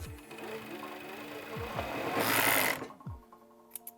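A sewing machine stitches beanie fabric along one side in a short, close run of whirring, rising to a louder burst before stopping, with soft clicks after.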